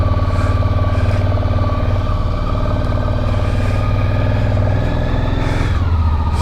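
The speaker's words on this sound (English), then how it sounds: "The bike has started." A motorcycle engine idling steadily just after starting, a loud, close, continuous mid-pitched hum with a steady throb that shifts slightly near the end.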